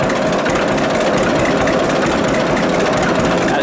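A 1946 John Deere AR tractor engine idles low, near stalling, continuously with a dense, rumbling chug, close by and alone with no talking.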